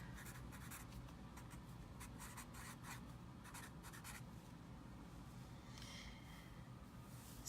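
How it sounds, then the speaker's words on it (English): A pen draws yoga stick figures on paper, making soft, close scratching and scribbling strokes in short bursts over a steady low background hum. "here I am just drawing a yoga stick figures key for you"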